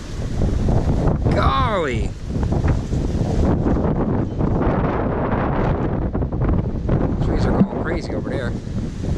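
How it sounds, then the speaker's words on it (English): Strong wind buffets the microphone outdoors, roaring and gusting steadily throughout, while people talk and exclaim over it near an RV in cold weather. "That wind is kicking."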